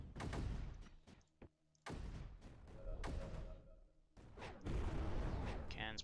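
Mortars and cannons fire in the strategy game Creeper World 4, a rapid series of booms and thuds in irregular clusters, some overlapping, with brief quieter gaps between bursts.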